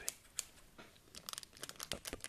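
Quiet crinkling and tearing of a foil wrapper, a Pokémon Sword and Shield booster pack being opened with scissors, short crackly bursts close up.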